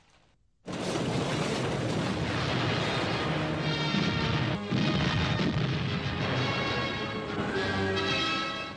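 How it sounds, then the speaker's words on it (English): Dense, continuous roar of wartime explosions and demolition during a German retreat, loud and sustained after a brief quiet start, with rumbling booms and crashes layered throughout. "But at the front, everything was being blown up in the retreat."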